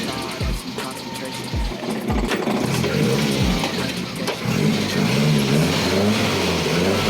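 A Nissan 1400 engine that had gone two days without starting cranks in a few low, uneven bursts, then catches and runs with a steady, loud rev close by.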